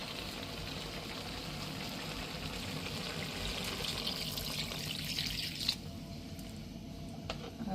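A steady stream of milk pours continuously into a cooking pot, with a soft bubbling splash and small clinks near the end.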